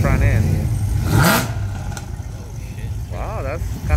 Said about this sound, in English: Wow, that's kind of loud for that car.